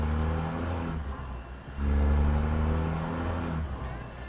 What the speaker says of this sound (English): Sounds like your truck is farting.